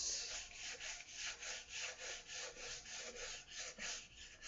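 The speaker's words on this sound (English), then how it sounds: "I'm not used to doing the sanding part with sandpaper" Sandpaper rubbed by hand over a wooden guitar body during varnishing work, a steady rhythmic back-and-forth rasping of about a dozen even strokes, close and alone.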